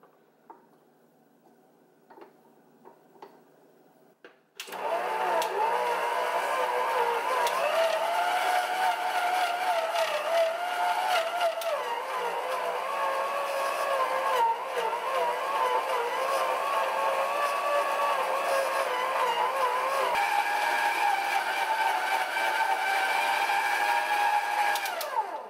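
A Hamilton Beach 63325 6-speed stand mixer kneading dough, starting abruptly after a few quiet handling noises and then running as a loud, steady motor whine with a churning rhythm that shifts pitch slightly near the end.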